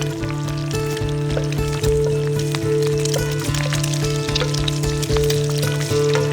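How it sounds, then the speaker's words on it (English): Eggs frying in a pan at a hunting camp, a steady soft sizzle running throughout beneath steady camp background noise. "Looks like it's gonna take long to cook eggs today"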